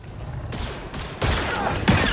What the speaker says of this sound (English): Oh, someone is shooting me.